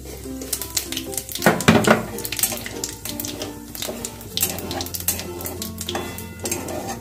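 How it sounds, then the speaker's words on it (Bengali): Cumin seeds and a bay leaf spluttering in hot oil in a home kitchen pan, heard as crackling, popping sizzle with scraping stirs and light utensil clatter; no one talks. "জিরেটা আমার ভাজা হয়ে গেছে"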